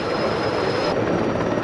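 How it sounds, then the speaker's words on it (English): Helicopter rotor and engine noise at the first takeoff of the day, a steady, loud broadband roar with a high whine that drops away partway through, no voices. "You probably already know that helicopters can lift straight off the ground."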